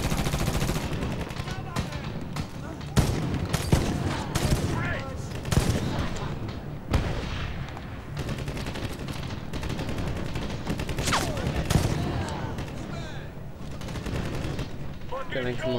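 Gunfire in the Medal of Honor video game on PS3: dense rapid machine-gun bursts and single shots mixed with battle noise, continuous and loud, with a voice talking over it.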